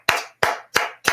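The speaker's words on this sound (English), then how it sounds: "Clap for the man." Four slow, evenly spaced claps ring out sharply and close, each a crisp smack followed by a brief decay, with silence between them.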